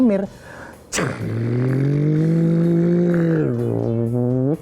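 Car engine sound from a children's show, a loud steady humming drone with a tonal engine-like pitch that holds and shifts slightly, right after a short spoken name; likely a voice imitating the car.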